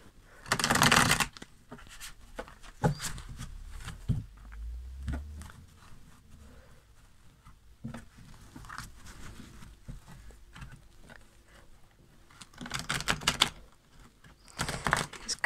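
Large tarot cards being shuffled in bursts, papery riffles and flutters that come close and loud at the start and again near the end, with quieter handling and taps in between.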